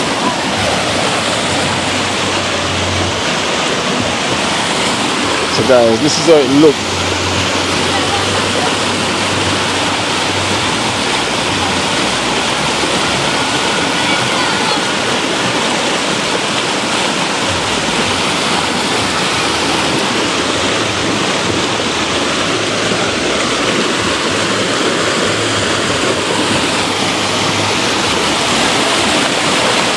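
A river in flood with muddy, dirty water rushing down: a loud, continuous broadband roar that fills the whole stretch, with someone speaking briefly over it.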